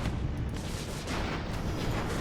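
Explosions and gunfire rumble through a battle in the airship strategy game Airships: Conquer the Skies, a dense, continuous low boom with crackling bursts layered on top, steady and loud with no voices.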